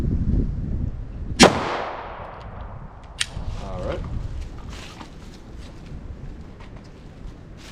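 A short-barrel pistol fires one loud, sharp 9mm 124 grain Sig Sauer Elite Defense V-Crown round into ballistic gel. A ringing decay follows, then a fainter sharp click and light handling noises.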